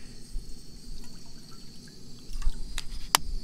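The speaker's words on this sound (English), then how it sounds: "Just boil up some water." Water pouring into a pot to boil for a camp meal on a fall fishing trip, a close, steady trickling stream with a couple of sharp clinks near the end.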